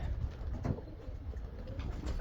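Pigeons cooing at a professional pigeon loft, low soft murmuring coos close by and continuous, with no talk.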